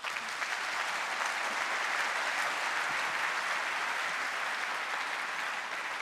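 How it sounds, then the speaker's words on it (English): Sustained, dense audience applause fills a conference hall stage session, steady and fairly loud throughout with no speech over it. "Can we give them a round of applause?"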